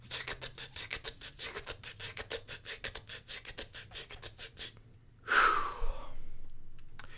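A person breathing in with a long run of rapid, rhythmic raspy inward pulls until the lungs are full, then one loud breathy exhale followed by a softer trailing breath, close to the microphone.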